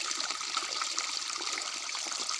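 Water gushes steadily from a running pump outlet, a dense, close, continuous hiss and splash without pause for the whole short stretch.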